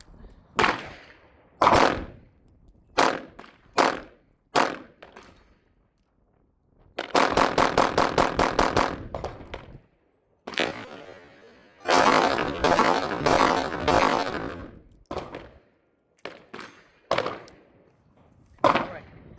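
An Akai Custom Ripsaw fires at a range in sharp, loud reports: scattered single shots, then two rapid bursts of closely spaced blasts, with brief voices between volleys.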